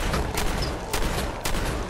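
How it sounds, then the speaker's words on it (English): Shotgun blasts in Fallout 4, three or four heavy booming shots in quick succession, loud and close over a dense rumbling background. "It's time to shotgun."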